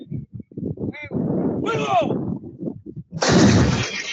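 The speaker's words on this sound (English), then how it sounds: "Oh, wow. Artillery." Artillery fire in Venezuelan military drill footage booms out in a heavy blast near the end, following a stretch of voices and chatter, loud and close.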